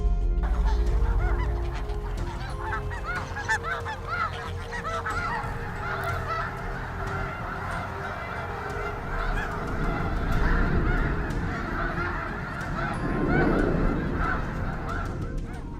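A flock of wild geese honks continuously, many overlapping calls at close to middling range, with the chorus swelling louder toward the end and no talking over it.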